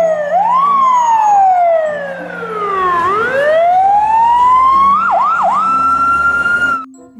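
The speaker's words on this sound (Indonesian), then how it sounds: "Pemadam kebakaran." Loud, close siren wails from a toy fire truck rise and fall in sweeping cycles, then break into a few quick yelps before stopping, with a thin electronic toy-like tone.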